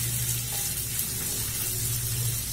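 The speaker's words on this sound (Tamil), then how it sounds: "கூடவே கொடமிளகா பெரிய பீஸாக அரிஞ்சி வச்சுக்கிறேன், அதையும் சேர்த்துக்கிறேன். எல்லாம் சேர்த்து ஒரு மூணு நிமிஷம் வதங்கட்டும்." Egg chilli with large pieces of capsicum sautéing in a pan, giving a loud, steady sizzle that continues without a break.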